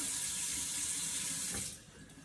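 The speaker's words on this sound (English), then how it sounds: "Back into the water. Let's clean the next potato." Potatoes being washed in water at a kitchen sink, heard as a close, steady rush of running water with light splashing that drops off near the end.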